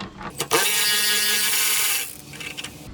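Ratchet wrench on a screw of a 2023 BMW S1000RR fuel tank: a brief clicking buzz of the pawl spinning rapidly for about a second and a half, close and loud, followed by a few lighter clicks and taps.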